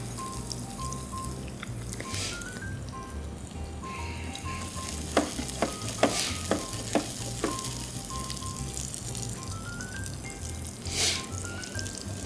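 Shallot and coriander seed toasting in olive oil in a pan, a steady loud sizzle with a few light clinks of stirring partway through.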